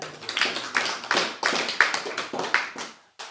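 An audience at a religious study gathering claps in a short, uneven burst of sharp hand claps, fairly close and moderately loud, fading out after about three seconds.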